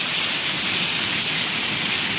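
A downpour drums on a flooded village farm field, steady loud rain noise filling the whole moment with no talking.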